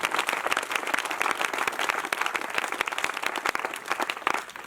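A church congregation applauds in dense, continuous clapping that stays fairly even throughout, with no voices standing out.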